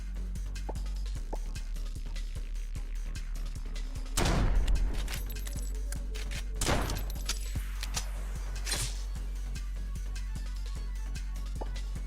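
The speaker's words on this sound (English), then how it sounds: "watching them get completely obliterated with a single gunshot is really funny" Gunfire in a video game fighting scene: a loud burst of shots around four seconds, then a couple of quieter shots a few seconds later, over a steady low game hum with no talk.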